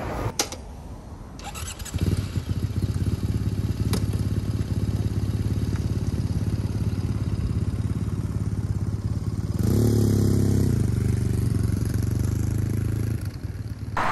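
A Triumph Speed Twin motorcycle is ridden on the road, its engine a steady, loud, close drone mixed with wind rush, rising slightly in intensity near the middle before easing.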